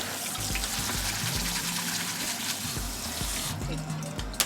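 Tap water runs steadily into a sink as cooked food is cooled under it in a kitchen, a continuous hissing splash with faint clinks, briefly changing tone near the end.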